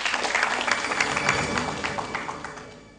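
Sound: applause

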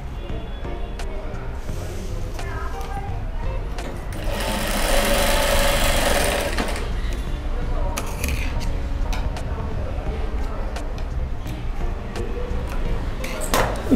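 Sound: sewing machine stitching a card holder

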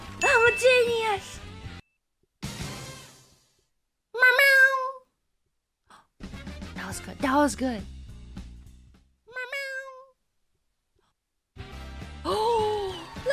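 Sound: human voice imitating cat meow

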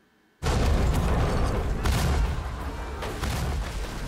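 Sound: ship cannon fire from TV show Black Sails

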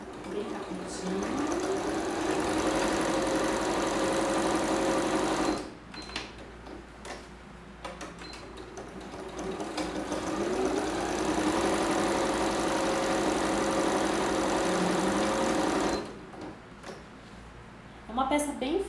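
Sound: sewing machine stitching a safety seam on a blanket

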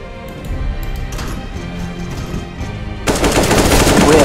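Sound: gunfire in Counter-Strike: Global Offensive video game

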